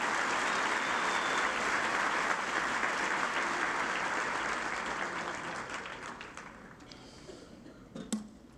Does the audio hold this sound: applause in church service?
yes